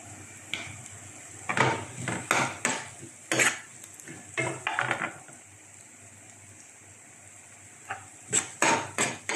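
Garlic and onion are stirred in a pan, with a spoon scraping and clinking against the metal in bursts of sharp strokes, a soft sizzle underneath and a quiet gap midway.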